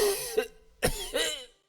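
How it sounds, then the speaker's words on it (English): A character coughing in the video game Astrologaster, three rough, hoarse coughs in quick succession, close and clear, with throaty voiced tails. "My throat is grown sore, and I cough day and night."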